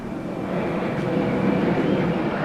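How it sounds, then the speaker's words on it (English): An airplane passes over a Montreal neighborhood near the airport as a steady, broad, distant roar that holds even and swells slightly over a few seconds, with no talking. "There's a nice airplane going by."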